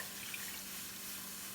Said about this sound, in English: Now we're going to add our 3 cups of milk.